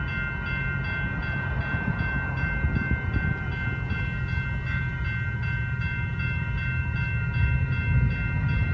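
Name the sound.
Tuscany commuter train passing level crossing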